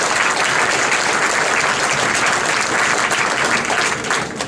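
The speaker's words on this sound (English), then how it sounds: "a round of applause for our candidates for joining us here for this event" An audience at a Nebraska Tea Party Republican Senate debate applauds the three candidates with dense, sustained clapping from a sizable crowd, loud and continuous throughout with a slight fade near the end.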